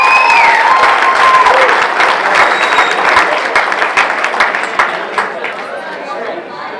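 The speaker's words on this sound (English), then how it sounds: "How about a nice round of applause?" A crowd at the Woburn Country Idol singing contest applauds the arrival of a guest singer, with dense, loud clapping mixed with scattered chatter and a few cheers, gradually thinning toward the end.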